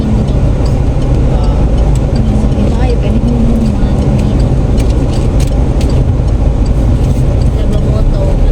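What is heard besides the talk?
heavy city road traffic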